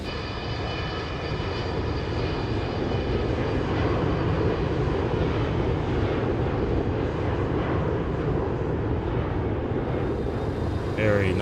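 Simulated American Airlines Boeing 727 jet engines roaring during takeoff in the FS2024 flight simulator, a steady loud rumbling drone held throughout with no break.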